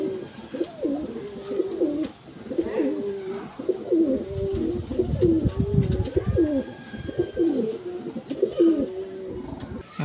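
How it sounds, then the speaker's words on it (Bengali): Female pigeons coo in a home loft in repeated low, rolling phrases, close and fairly loud, continuing steadily over a soft background hum. "আমার লফটের কিছু মাদি পায়রা আপনাদের শখ করাচ্ছে"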